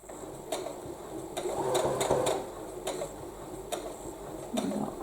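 A sewing machine stitches a quilt seam, running in short bursts of steady mechanical whirring with brief pauses between, fairly close and alone without talk.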